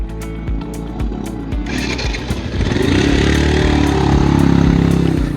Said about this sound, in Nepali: यस्तो छ एनएस बाइक आउँदैछ